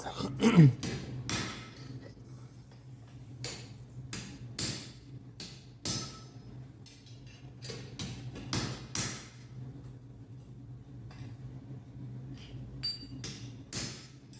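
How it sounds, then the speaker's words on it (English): Steel being hand-forged with a hammer into a feather-shaped candle holder, the piece held in tongs rather than a vise; sharp metallic strikes land in irregular bursts over a steady low workshop hum, close and fairly loud, with no talking. "then I'm gonna forge it"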